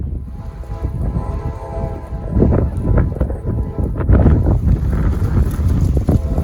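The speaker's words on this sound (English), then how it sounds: "It is very windy out here right now." Strong wind gusts buffet the microphone outdoors beside a railway, a loud, low roaring rush that swells and surges unevenly, with no talking.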